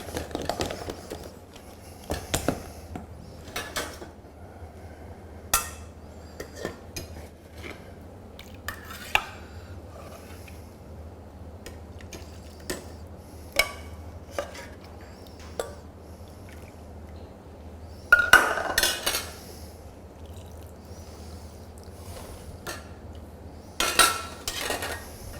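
A spoon scrapes and clinks against a pan as a béchamel sauce is stirred over stovetop heat, giving scattered light knocks over a steady low background hum.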